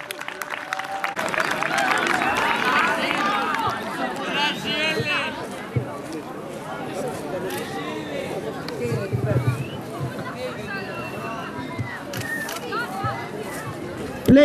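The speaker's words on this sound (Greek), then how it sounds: "Ένα χειροκρότημα στο Μάριο." Crowd applause and chatter at a youth soccer award ceremony for an Easter tournament in Loutraki, a steady mass of clapping and voices filling most of the clip, with talk over it.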